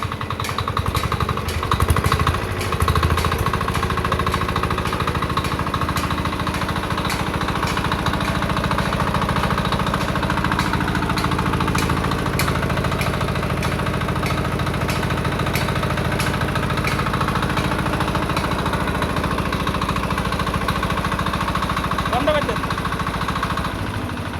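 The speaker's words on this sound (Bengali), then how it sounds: "আমরা ম্যাশিংটা স্টার্ট দিয়ে আপনাদেরকে দেখাবো আপনারা সাউন্ডটা শোনেন" A power tiller's single-cylinder diesel engine runs close by with a steady, loud, rapid thumping throughout, while someone talks over it.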